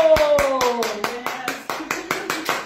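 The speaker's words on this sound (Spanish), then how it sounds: "¡Aplausos!" Rhythmic clapping welcomes a singer to a small living-room live performance with about twenty viewers: roughly a dozen evenly spaced sharp claps, fairly close, over a sustained voice or tone.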